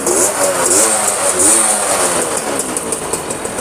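A Yamaha V80 motorcycle engine runs loud and close with a steady buzzing drone and slight rises in revs throughout, with no voices over it.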